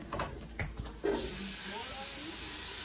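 Onions dropped into hot oil in a pan burst into a loud, steady sizzling hiss that holds evenly to the end, following a few brief clatters and a voice at the start.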